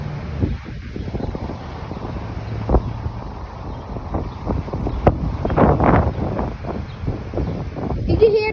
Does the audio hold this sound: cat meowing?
no